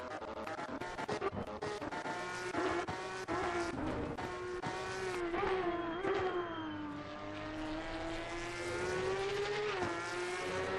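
A high-pitched racing engine in the video game Assetto Corsa Competizione screams continuously, its pitch rising and falling with gear changes, with occasional tire squeal and no voices.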